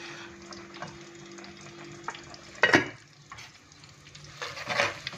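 Kofta and potato pieces sautéing together in a pan, a soft steady sizzle with a couple of louder stirring scrapes near the middle and end, no talk.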